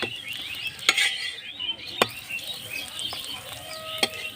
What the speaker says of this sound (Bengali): এই পরোটাটাও আমার ভালো করে ভাজা হয়ে গেছে